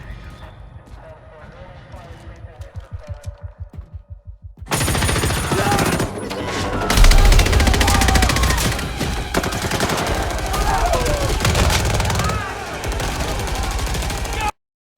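Machine gun bursts from the Battlefield 6 reveal trailer for the video game, loud, dense rapid fire layered with blasts and a heavy cinematic score, preceded by quieter rhythmic thumps.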